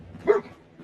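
The dog companion in the Fallout 4 video game gives a single short bark, clear and mid-distance, followed by quiet background ambience.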